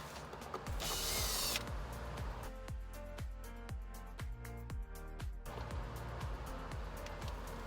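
An 11 mm socket on a ratchet removes fasteners from a 2006 Range Rover Sport, sounding as a close series of sharp, rapid metallic clicking bursts with a brief loud whirring rush near the start.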